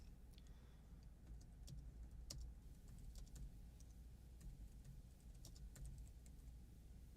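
Keys clicking on a computer keyboard in a quiet room, sparse irregular taps and short bursts, faint and close, over a steady low background hum.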